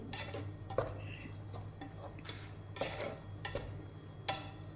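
Sweet garlic pickle is stirred and mixed in a pan with the gas switched off, giving intermittent light clinks and scrapes of a spoon against metal at an irregular pace over a low steady hum.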